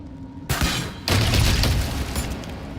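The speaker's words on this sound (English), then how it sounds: "So let's do some more explosions." Two heavy blasts from spell explosions in the fantasy role-playing game Baldur's Gate in the Underdark, each a sudden broadband boom followed by a rumbling, crackling tail, with no talk over them.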